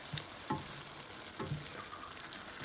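Chili meat with garlic, onion and pepper sizzles in a pan, with a soft steady frying hiss broken by a few scraping stirs of a utensil, close and moderately quiet.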